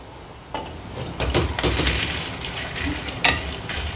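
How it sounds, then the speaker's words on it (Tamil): Ginger sautés in a pan for a spicy gravy. After a short quiet start the sizzle comes up sharply and holds steady, with stirring scrapes and a light clink partway through. "இஞ்சி சேர்த்து வதக்கணும்."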